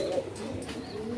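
Pigeons coo steadily with soft throaty calls at a pigeon market where a pair is offered for sale, close and continuous through the clip.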